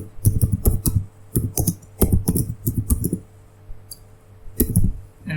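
Computer keyboard typing while writing Python code, with clustered bursts of crisp, close keystroke clicks separated by short pauses, loud and alone.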